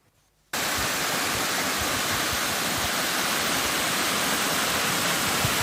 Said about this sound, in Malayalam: ഭംഗിയുള്ള വെള്ളച്ചാട്ടവും ആഴം കുറഞ്ഞ തടാകങ്ങളുമാണ് ഇവിടുത്തെ പ്രത്യേകത.